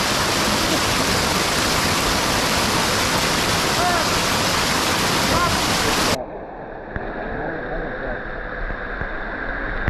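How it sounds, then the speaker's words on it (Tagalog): Bolinao Falls waterfall in Pangasinan roars as a loud, steady broadband wash of falling water, dropping suddenly to a quieter, more distant rush partway through. "ayun yung Bolinao Falls 1,"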